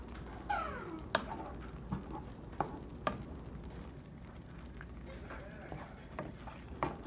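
Velveeta nacho cheese and milk being stirred in a pan, with soft scraping and occasional clinks of the utensil against the pan over a faint sizzle, and bits of talk.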